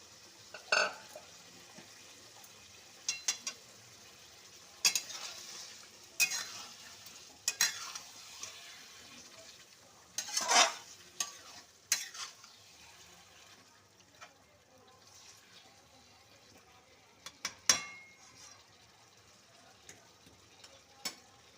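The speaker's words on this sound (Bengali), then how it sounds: "ওই যে ম্যারিনেট করে রেখেছিলাম সেই বাটি ধোয়া জলটা আমি একটুখানি দিয়ে দিচ্ছি।" Chicken frying in a pan as marinade bowl rinse water is poured in, a quiet low sizzle with scattered sharp scrapes and clanks of stirring across the stretch, faint and intermittent.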